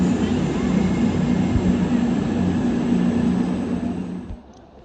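Two trains, a London Northwestern Railway Class 350 and an Avanti West Coast Class 390 Pendolino, approach the platform at Stoke-on-Trent with a loud, steady broadband rumble that fades away near the end.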